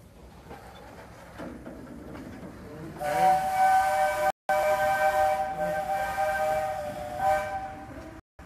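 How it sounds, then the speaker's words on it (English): Steam-powered excursion train in Ohio sounds its steam whistle, a loud sustained multi-tone blast that cuts out briefly and resumes, over hissing steam and a low rumbling background. "One of the last steam-powered trains left in Ohio that makes daily excursions."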